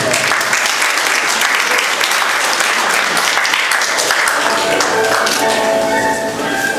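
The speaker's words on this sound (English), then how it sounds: "Please welcome Mr. Roman Morales with a round of applause." Loud, sustained applause from a large crowd, dense clapping that continues steadily throughout before tapering slightly at the end.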